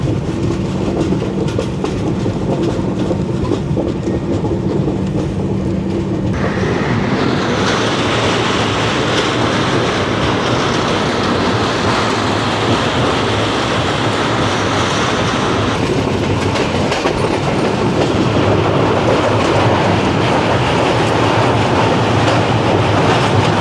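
The Kolkata to Guwahati Garib Rath Express runs on rails near Azara and Kamakhya in India, a loud continuous roar with rhythmic clickety-clack of wheels and occasional squealing, heard close and steady throughout with no talk.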